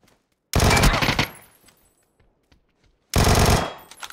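Two loud, close bursts of automatic gunfire in the PUBG video game, each lasting under a second, separated by a quiet gap of about two seconds.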